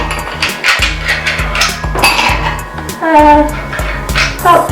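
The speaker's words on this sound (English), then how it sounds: "Put a few cubes of ice in your drink." A few ice cubes dropped into a cocktail glass for a Malibu rum holiday drink, clinking and rattling sharply against glass in a quick series of bright, close knocks.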